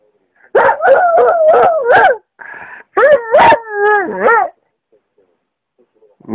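A dog on a couch howls in a sing-song way, a run of short rising yips followed by longer wavering howls, loud and close, then stopping abruptly into silence.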